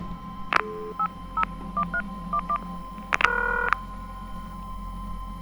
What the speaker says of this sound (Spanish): tomó el teléfono y rápidamente se puso a marcar un número.